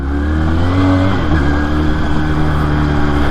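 Braaap ST400 motorcycle single-cylinder engine revving hard close up, a loud continuous buzzing drone that holds steady at high revs with a slight dip partway through, no voices.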